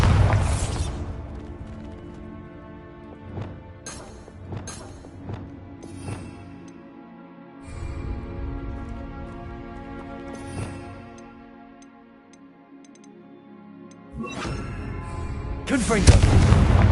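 Bombarda blasting spell in Hogwarts Legacy, several loud booming explosions with sharp onsets and rumbling tails spread across the stretch, over a game music background.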